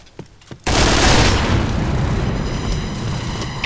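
Video game gunfire: a couple of faint taps, then a sudden loud burst of shooting that swells into a dense, sustained roar of overlapping shots and rumbling for several seconds.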